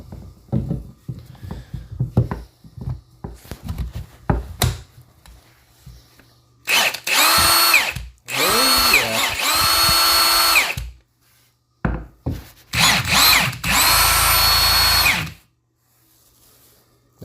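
A rebuilt Milwaukee M18 cordless drill runs in two long loud bursts and a few short blips, near and clear, after a stretch of quiet handling clicks and tapping.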